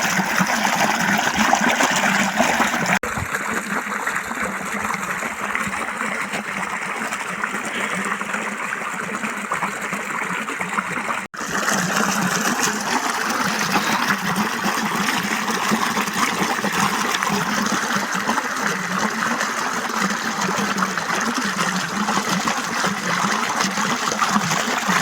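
Water rushes along a farm irrigation channel in a village setting, a continuous loud gushing and splashing flow close by, with a brief dip in the sound partway through and no clear talking.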